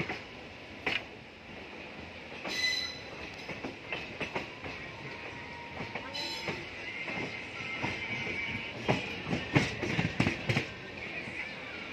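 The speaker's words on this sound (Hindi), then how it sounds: "train left the Malda town station" An express train pulls out of Malda Town station in India with rumbling running noise, scattered clacks of wheels over rail joints and brief metallic squeals, the clatter growing busier toward the end.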